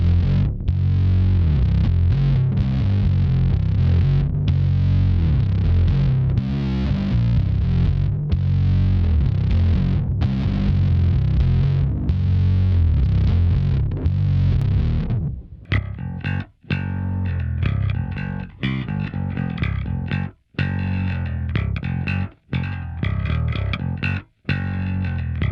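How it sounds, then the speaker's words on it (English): Distorted bass guitar plays a song bridge, loud and continuous with effects-unit coloring; a sustained driving section gives way to choppier phrasing with brief gaps between notes. "This is how I play the bridge, with distortion,"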